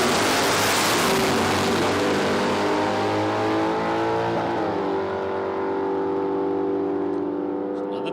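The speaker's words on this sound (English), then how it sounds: "Kylie O'Reilly back around the Mitsubishi Lancer, 308 engine in that one" A Mitsubishi Lancer drag car with a 308 engine makes a run at a dragstrip test-and-tune session: a loud, sustained engine roar with strong steady harmonics that shift in pitch partway through before easing at the end.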